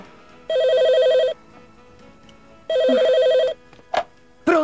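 An old-style telephone bell rings in two loud, trilling bursts with a pause between, indoors in a 1996 short film, followed by brief clicks as the receiver is handled.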